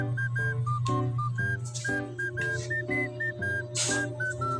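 A whistle sounds a run of short, bright, stepped tones in a quick melodic pattern over a steady low hum, fairly loud and with no voices.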